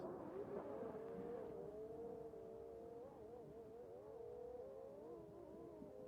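Engines of cars in the racing game CarX whine and rev faintly in the background, with tones that waver and glide as the cars accelerate and shift, continuous over several seconds.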